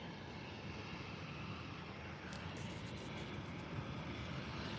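An airliner arriving at San Diego airport, a steady distant engine roar heard from outside, faint and continuous without talking.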